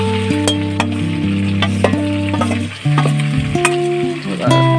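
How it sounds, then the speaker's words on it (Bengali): Chicken meat fries and sizzles steadily in a pan, a close, continuous crackle with occasional scraping from stirring. "এর মাংস মোটামুটি ভাজা হয়ে গেছে, এবার এই মশলাগুলো ঢেলে দেবো যেগুলো ভেজেছিলাম আমরা।"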